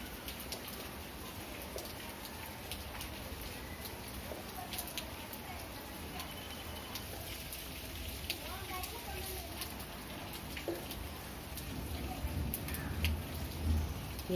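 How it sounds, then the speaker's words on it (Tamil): Summer rain falling steadily at night, a soft continuous patter of drops with faint bird calls in the background and a slight swell toward the end. "இரவில் நைட்டு மழை பெய்கிறதுனால அந்த மின் ஒளியிலையும் இந்த மழை துளிகள் படும்பொழுது"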